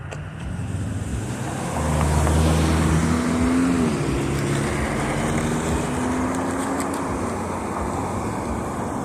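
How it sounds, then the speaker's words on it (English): Steady roadway traffic on a city street, with cars rumbling past continuously at moderate loudness, one engine note rising and falling midway through, no talking. "There's hella cars out here."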